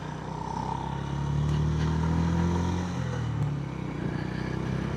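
A Royal Enfield GB350 motorcycle pulls hard up through second gear on a highway, its engine drone rising and swelling over steady wind and road rumble, then easing slightly as the gear tops out.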